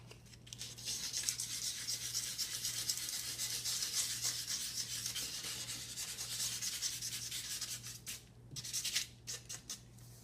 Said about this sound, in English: So nice light sanding.